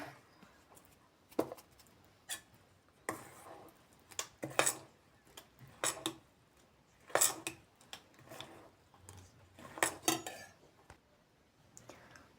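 Salt being mixed into beetroot paddu batter in a bowl, heard as repeated spoon-on-bowl scrapes and clinks in irregular bursts, close and moderately loud, with quiet pauses between strokes.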